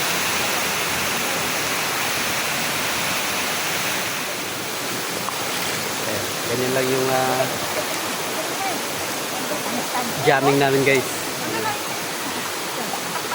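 Steady, full rush of Tangadan waterfall fills the whole scene, a constant broadband roar close by, while a person talks over it briefly near the end.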